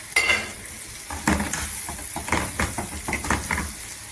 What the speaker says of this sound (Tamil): இதை போட்டு ஒரு 2 கிண்டிட்டு இது கூட இந்த கத்திரிக்காயும் போடுறோம்